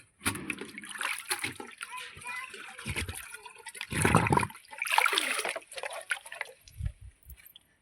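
Water splashes and sloshes as a tin is filled to water a cow. The irregular splashing bursts come close and fairly loud, with people talking between and over them.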